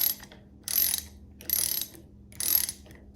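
A Milwaukee 3-in-1 lineman's high-leverage ratcheting wrench backs out a bolt on its 3/4-inch side, four separate bursts of crisp ratchet clicking with short quiet pauses between them, close and clear, without speech.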